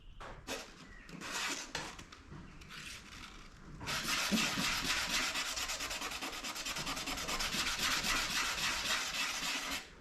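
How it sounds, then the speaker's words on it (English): Sanding a fibreglass motorcycle racer body for a BSA Bantam after it comes off its mould, beginning with scattered short rubbing strokes, then a continuous, rapid, gritty scrubbing that runs on steadily and close up with no speech. "what I'm up to now, obviously, is sanding"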